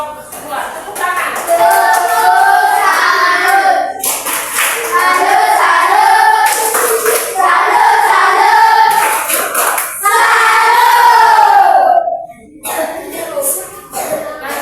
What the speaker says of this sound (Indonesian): Oke, tepuk tangan untuk kelompok 2. Tepuk tangan.